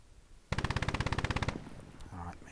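Rapid machine-gun burst in the WWII game Gates of Hell, about fifteen sharp evenly spaced shots in a loud, close volley lasting a second, then quieter battlefield rumble with a brief voice at the end.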